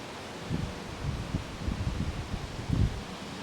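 Wind gusting through a louvered aluminium pergola, a Mirador Solid 80, on a windy day, heard as a low, rumbling buffet of air against the microphone that swells and fades in uneven pulses, with no voices.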